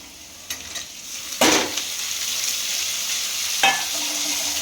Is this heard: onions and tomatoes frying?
yes